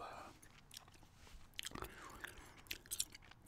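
Close, soft chewing of gum with wet smacks and little crunching bites sounds under a quiet whispered voice.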